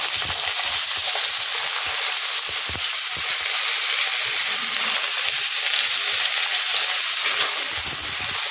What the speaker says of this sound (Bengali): এবার এটা একটু আলুটা ভেজে নিয়েছি